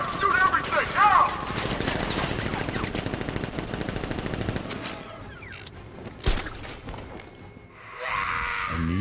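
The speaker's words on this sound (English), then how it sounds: "Open fire! Shoot everything!" Militia gunfire in Batman: Arkham Knight, with dense rapid automatic bursts rattling over game noise, then a sharp impact and a lull before a rushing swell.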